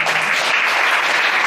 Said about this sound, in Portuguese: Você pode aplaudir a Deus pela minha família.